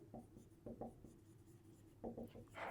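Pen scratching across paper in short bursts of writing with brief pauses between strokes, close and quiet, as equations are worked out by hand.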